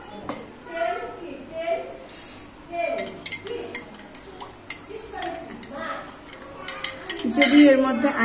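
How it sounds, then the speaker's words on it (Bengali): A spoon stirs coffee with milk and sugar in a cup, giving repeated light clinks and taps against the sides, with a person talking throughout. "দুধ আর চিনি ওইটা আমি দিয়ে কফিটাকে এভাবে গুলে নিব"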